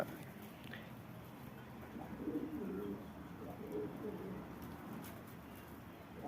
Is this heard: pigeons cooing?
yes